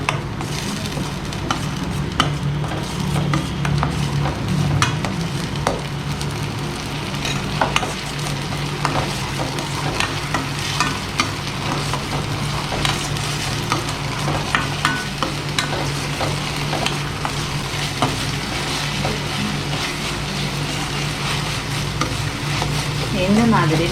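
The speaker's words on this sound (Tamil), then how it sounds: "இந்த மாதிரி நல்லா பச்சை வடை ஸ்மெல் போகிற வரைக்கும் நல்லா வதக்கி விடணும்" Ground tomato paste sautéing in a hot pan for a street-style mushroom dish, a steady close sizzle with frequent stirring scrapes running throughout, no one speaking.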